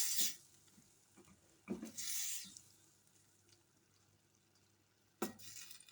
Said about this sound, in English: I had already boiled this bacon and sausages, so there I'll have just to put and stir it